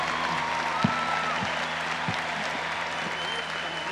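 An audience at a concert show at the Movistar Arena applauds steadily, a dense wash of clapping close by and continuous across the whole stretch, with a few louder individual claps standing out.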